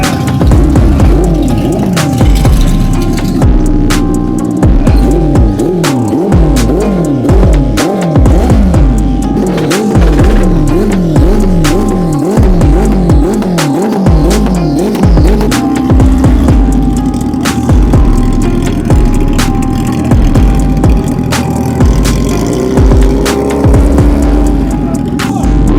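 Turbocharged motorcycle engines at the Batabit competition rev hard and repeatedly, rising and falling in rapid bursts, loud and close, with a steady crowd din underneath.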